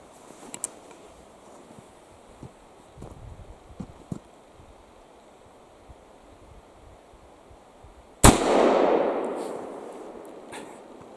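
A Remington Rolling Block rifle fires a single sharp, loud shot after several seconds of quiet outdoor rustles and small knocks, and the blast rings out into a decaying echo.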